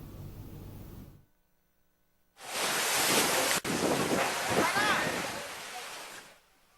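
Surf from high ocean waves, around three metres, breaking on a northern fishing coast, heard as a loud, steady roaring wash with wind buffeting the microphone, coming in after a brief hush.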